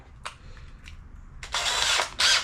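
A power drill bores into a hardened bolt on a Craftsman DLT3000 riding mower, with short trigger blips and then a sustained high whine in two bursts.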